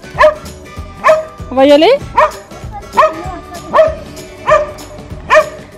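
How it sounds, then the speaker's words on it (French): A dog barks repeatedly outdoors on a farm with goats nearby, about eight sharp, fairly loud barks at a steady rhythm with a brief whimpering yelp in between, while a person speaks briefly. "visiblement le chien est pas content qu'on soit là"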